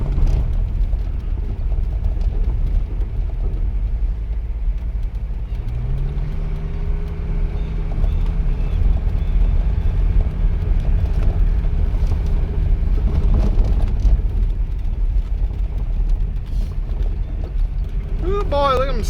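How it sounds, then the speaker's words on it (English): A diesel Mercedes 300CD drives off-road through sandy ruts, with a steady low engine rumble and a rising tone partway through, while someone talks over it. "Off-roading in your diesel Mercedes"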